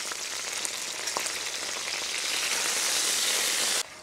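Chicken frames fry slowly in oil on a griddle over low heat, a continuous crackling sizzle with a few faint pops that grows fuller before cutting off abruptly.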